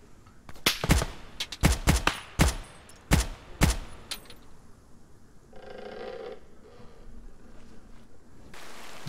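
Gunfire in the Arma 3 military video game: a burst of sharp, loud shots in an irregular cluster over the first few seconds, followed by quieter mechanical clatter and low ambient noise.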